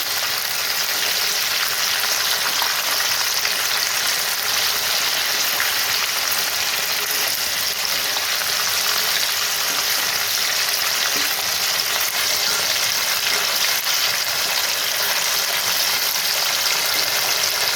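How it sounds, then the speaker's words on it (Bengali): Chicken pieces fry in hot oil in a pan for chicken fry biryani, giving a steady, close, unbroken sizzle and crackle that carries on with no voices over it. "এইভাবে চিকেনগুলো অল্প অল্প করে দিয়ে ভেজে নিচ্ছি"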